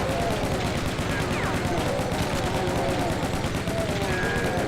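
Rapid automatic gunfire from a chain gun in the horror shooter game Unloved, a dense continuous burst of shots with a steady loud rattle throughout, layered with game background noise.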